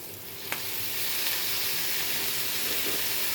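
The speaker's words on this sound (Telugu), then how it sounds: "ఇప్పుడు తోటకూర వేసేసుకుందాం" Amaranth leaves dropped into a pan of frying onions with turmeric set off a steady, bright sizzle, a soft clatter at the start, then continuous hissing frying at moderate volume with no talk.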